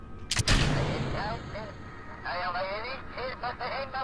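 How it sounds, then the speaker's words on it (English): Rocket fuel tanks jettisoned in Kerbal Space Program: a sharp, loud double burst like a pop of decouplers near the start, followed by talking. "Jettison the tanks."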